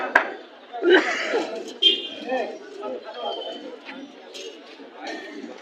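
Pigeons at a crowded pigeon market in Mirpur, Bangladesh, give soft cooing and fluttery calls close by, mixed with people talking over them and some handling noises.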